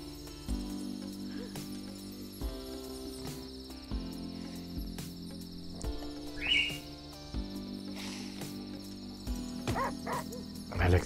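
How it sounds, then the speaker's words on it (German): Dog barking in the video game Golf With Your Friends: several short barks at intervals over a steady game music bed, fairly close and moderately loud. "Da bellt er mich hier an, ich glaub's nicht"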